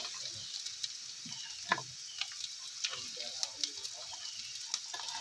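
Ingredients sizzle steadily in a hot pan while a utensil stirs them, scraping and clicking at irregular intervals over the continuous frying hiss.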